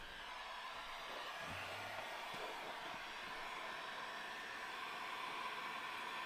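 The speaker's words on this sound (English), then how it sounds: "Continuously wetting it and hitting it with heat" A heat gun blows over a wet leather Halloween mask, giving off a steady, even hiss and airy rush that holds without a break.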